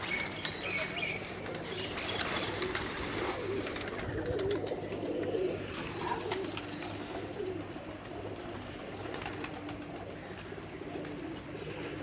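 Pigeons coo steadily at a rooftop breeding setup for flying pigeons, with a constant close bed of soft, overlapping coos and occasional chirps and faint murmurs of voices.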